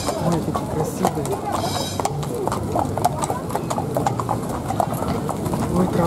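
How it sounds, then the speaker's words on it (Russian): Horses clip-clopping along a street during a Moscow tram festival parade, steady near hoof beats on pavement under excited crowd chatter and voices. "лошади боятся идти на вас"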